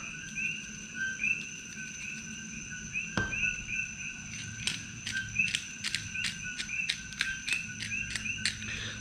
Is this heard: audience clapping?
no